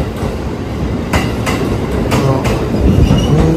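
A JR 211 series electric commuter train, running as a short four-car set in the Takasaki area, rolls into a station with steady rail rumble, rhythmic wheel clatter over joints and faint flange squeal, close and continuous throughout.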